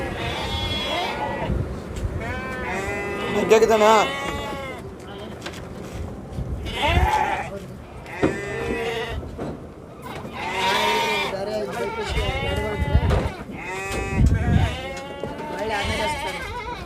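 Goats at a goat pen, being loaded onto a Tata 1109 truck, bleat repeatedly in overlapping calls of varying pitch while people talk nearby.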